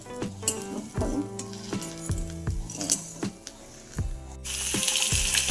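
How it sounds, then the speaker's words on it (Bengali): Fish fries in a pan with a light sizzle under clinking utensils and several sharp knocks, and the frying swells into a louder hiss near the end. "মাছ ভাজা বসিয়ে দিয়েছি"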